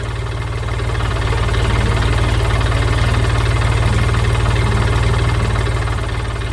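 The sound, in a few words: green tractor engine in cartoon animation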